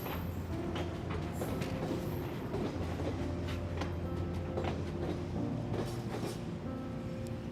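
A train running steadily along the rails in a movie scene, a continuous rumbling roll with faint rhythmic clatter throughout, no voices over it.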